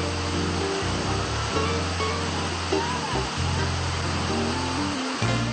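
Panval waterfall near Ratnagiri in the Konkan after heavy monsoon rain, a loud, constant roar of falling water with some low rumbling variation throughout.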